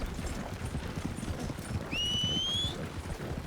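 Horse hooves clip-clopping on the ground in Red Dead Redemption 2, a steady close rhythmic trot with a short rising whistle-like tone partway through.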